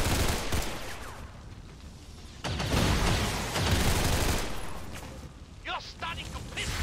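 Gunfire in XCOM 2: a loud opening blast, then more sharp reports and a burst of rapid shots midway over a rumbling battle bed, followed by quieter rattling effects.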